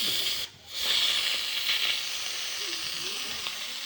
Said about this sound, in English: Let's get the vapors out.